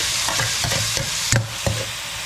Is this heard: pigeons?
no